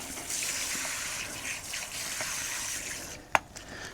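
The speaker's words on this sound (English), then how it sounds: "let me spray out the brush so that we have as little product on there as possible, so it's mostly just water." A hand sprayer hisses water steadily to rinse product out of a brush during car detailing work. The spray runs close and continuous, with one brief sharp knock near the end and no talking.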